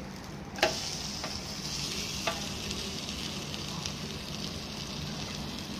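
Pomfret fish sizzles and crackles in a hot pan with a steady hissing fry, broken by a few sharp pops and spatters, and no one talks over it.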